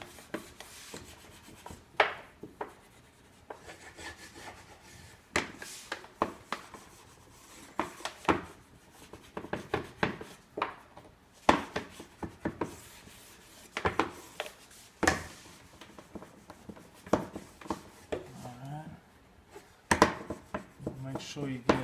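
Wax is rubbed onto wooden drawer slides in irregular scraping and rubbing strokes, some sharp and some soft, heard close up with pauses between bursts.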